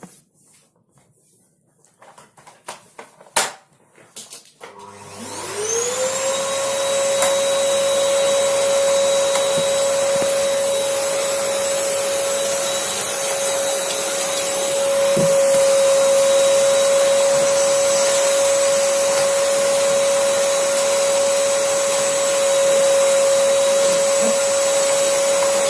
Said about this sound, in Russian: что делает моя собака с новым пылесосом